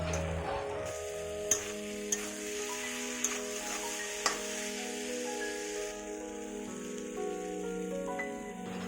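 Prawns fry in a pan with turmeric, making a continuous crackling sizzle like light rain, with a few sharp ticks and spatters popping out above it.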